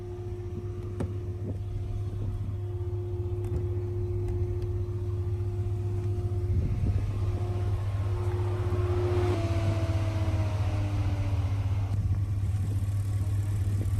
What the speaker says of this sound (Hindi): तो ये है 6750 cc V8 twin turbocharge Rolls Royce Bentley L series petrol engine, cam facing और वेरिएबल डिस्प्लेसमेंट के साथ।